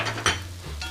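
A utensil scrapes and knocks in a pan as chopped garlic and onion are stirred while frying, with a soft sizzle and two short clinks over about a second.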